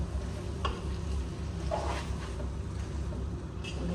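Biryani being mixed in a pot at home, soft scraping stirs and faint sizzling over a low steady hum, with no talking.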